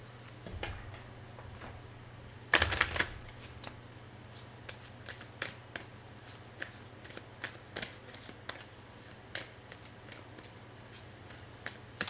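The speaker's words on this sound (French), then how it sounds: "Je vais aller chercher maintenant des cartes des anges." Angel oracle cards are handled and shuffled nearby, giving a brief loud riffle burst followed by a run of soft, separate card taps and flicks over a steady low hum, with no talk.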